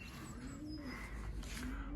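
Young performing pigeons in training give soft, low, drawn-out coos, close and fairly quiet, with a few faint higher chirps and no voices.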